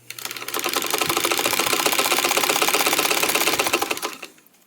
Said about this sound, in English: Just slide the next one and sew that together.